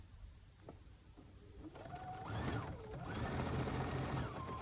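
A sewing machine stitches a seam on a quilted art journaling bag, a fairly quiet rhythmic whirring that starts after a few soft handling clicks and speeds up into a steady run.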